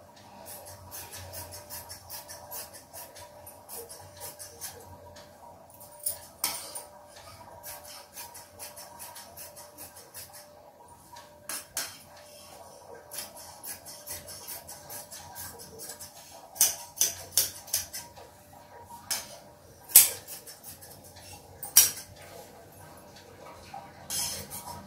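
Blouse fabric being cut into the main piece, making soft, intermittent snipping and rustling sounds at a quiet level, with a few sharper clicks toward the end.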